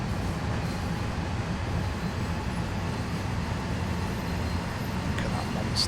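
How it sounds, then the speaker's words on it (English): A train in Train Sim World 2 labours uphill, its engine giving a steady low rumble with constant rolling rail noise and no breaks, heard close and continuous. "Come on, train. I know you're going uphill, but you got this."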